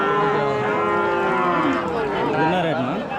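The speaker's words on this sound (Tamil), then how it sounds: "அண்ணன் இது மாடு" A cow at a Tamil Nadu cattle market lets out a long, loud, close moo with shifting pitch, lasting several seconds, with crowd noise faintly beneath.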